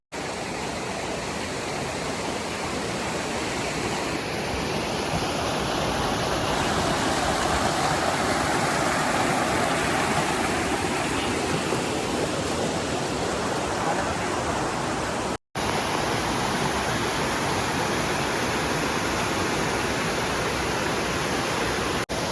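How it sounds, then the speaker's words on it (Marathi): Steady, loud roar of a small waterfall with water dropping from above into a pool at a hidden forest waterfall near Palsan, a continuous wash of noise with no talk. "माझ्या मागे जो मिनी वॉटरफॉल आहे वरतून आलेलं पाणी"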